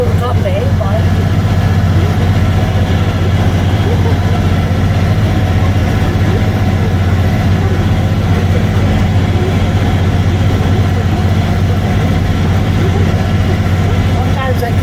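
Tractor engine running steadily while baling hay, a constant low rumbling drone with a faint hum on top, close and unbroken, as someone talks over it now and then.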